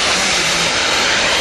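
An RC Bluebird model boat driven by a Wren jet engine runs at full throttle, giving a loud, steady, broadband turbine roar that holds without a break throughout.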